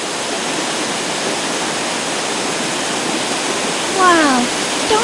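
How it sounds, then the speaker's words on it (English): A forest waterfall at Dongyan Mountain rushes in a dense, steady broadband roar that fills the whole scene, with a few faint bird chirps near the end. "the rushing thunder of the waterfall"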